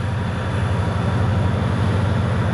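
Deep, steady rumble of a heavy freight locomotive shoving rail cars under load in an Iowa rail yard, a continuous low throbbing drone with a broad hiss above it.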